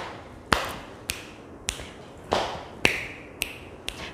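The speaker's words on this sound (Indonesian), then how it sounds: "Tepuk paha, tepuk tangan, petik jari, petik jari." Children tapping their thighs, clapping and snapping their fingers in a church children's service, heard as sharp, separate percussive hits in an irregular rhythm, close and moderately loud, with no talk.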